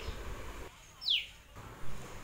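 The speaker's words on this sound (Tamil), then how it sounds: "கத்திரி செடியில் சிட்டுக்குருவி குடும்பம்," A house sparrow in a home garden, nesting on an eggplant plant, gives a single short, high chirp against a quiet outdoor background.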